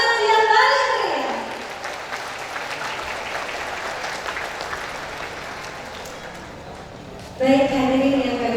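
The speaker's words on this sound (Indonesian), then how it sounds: "Sekali lagi saya minta tepuk tangan yang paling meriah." An audience at a Javanese royal accession anniversary ceremony breaks into steady applause after a brief spoken line, the clapping holding evenly for several seconds before speech resumes at the end.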